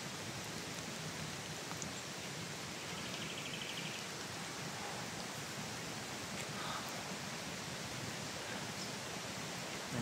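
Constant broadband rush of water flowing in a creek, steady and unbroken throughout, moderately distant with no other distinct sounds.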